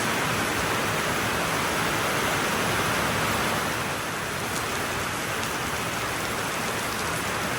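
Steady rain pours down in a dense, even hiss that stays loud and unbroken throughout, with no voices or other sounds rising above it.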